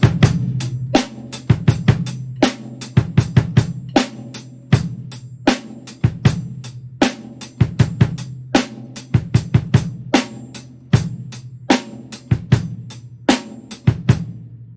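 A drum kit played with feeling in a beginner's lesson: a steady groove of sharp kick, snare and cymbal hits repeating in a regular rhythm for the whole stretch, close and loud with no talking.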